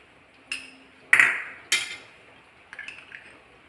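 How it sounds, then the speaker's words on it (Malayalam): A spoon clinks against a cooking pot while ghee is stirred into Karkidaka kanji, a medicinal rice porridge with coconut milk, giving four or five separate ringing metallic taps, close and clear with no talk. "നെയ്യ് നല്ലതുപോലെ ഇളക്കി ചേർക്കാം"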